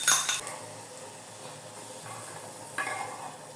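Green beans sauté in a pan for chicken biryani, a soft steady sizzle under sharp metallic clanks of a spoon scraping and stirring at the start and again near the end.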